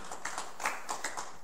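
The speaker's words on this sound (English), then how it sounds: "another big hand clap of praise tonight" A church congregation claps hands in praise during a service, a brief burst of several rapid, fairly close claps in an uneven rhythm.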